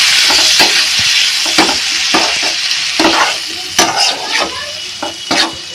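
Egg is sautéed in oil with ground cumin, coriander and chili powder, a loud crackling sizzle broken by repeated, rhythmic scrapes and knocks of a stirring spoon against the pan.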